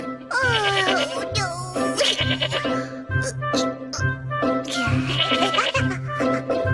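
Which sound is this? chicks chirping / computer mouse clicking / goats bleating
goats bleating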